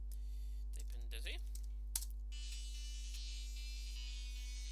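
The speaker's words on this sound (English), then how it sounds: "Type in Dizzy." A short run of keystrokes on a computer keyboard types a game command into DOSBox on Ubuntu, faint clicks over a steady electrical hum, followed by one sharper key tap.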